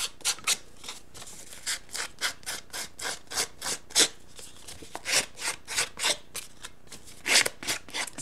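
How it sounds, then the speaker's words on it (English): A hand sander distressing the edges of paper in a craft layout, a close series of short rhythmic rasping strokes, roughly two per second, each a brief scratchy burst with small gaps of quiet between them. "I'm just kind of distressing the edges a little bit with my sander"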